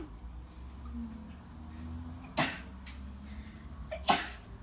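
Two sharp sneezes about two seconds apart burst out close and loud over a quiet low room rumble.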